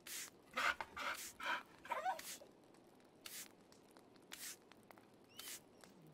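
A dog in the video game Pentiment pants in short, quiet bursts, with a few sniffs and light rustles between them.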